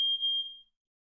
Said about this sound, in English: Sorry, the fire alarm just went off.